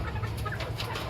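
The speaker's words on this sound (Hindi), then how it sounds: "ये सोनाली ब्रीड की जो मुर्गी है हमारी" A Sonali breed hen clucks close by over a steady low background hum, short soft calls repeating without any talking.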